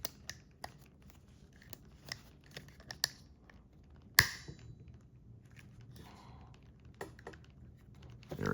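Clamping pliers press rivets into a pair of handmade earthing shoes, producing sharp isolated clicks and small snaps at irregular intervals, with one louder crunching snap partway through, close up and with no talking.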